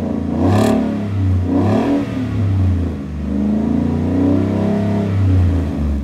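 A 5.0L V8 engine in a 2016 Ford F-150 with an aftermarket exhaust revs hard twice, then settles into a deep, rumbling idle nearby.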